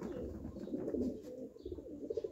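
Soft, low cooing of racing pigeons, steady and close, with a faint background hum and no talking.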